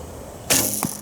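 A longbow string releases with a sharp snap and whoosh, followed a moment later by the dull thump of the arrow striking home.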